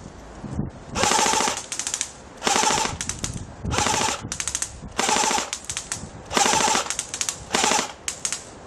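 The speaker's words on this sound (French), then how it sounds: "Maintenant de la rafale." An airsoft AK47 replica, a Cyma CM.028U, fires about seven rapid full-auto bursts in a clear stop-start rhythm, loud and close, with short pauses between them.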